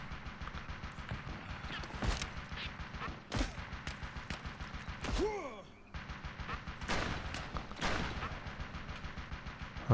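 Rapid bursts of enemy machine-gun fire in the Western video game Gun, a steady rattling stream of shots with a few louder reports and a whistling ricochet in the middle, over clopping hooves.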